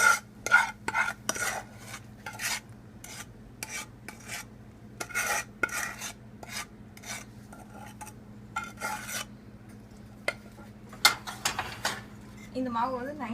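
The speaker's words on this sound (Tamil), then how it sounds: "இப்போ மாவில் வந்து அந்த செஞ்ச பாவை வந்து அப்படியே மிக்ஸ் பண்ணி" A spoon scrapes and stirs through fermented paniyaram batter mixed with jaggery syrup in a bowl, making a series of short irregular scraping strokes over a low steady hum.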